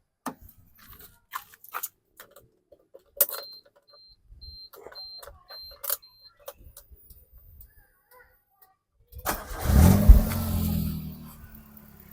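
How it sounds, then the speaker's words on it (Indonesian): Faint clicks and ticks give way to a modified Suzuki Baleno engine cranking and catching, then settling into a low, steady, smooth idle rumble. "Suaranya kita dengerin suara mesinnya dulu ya"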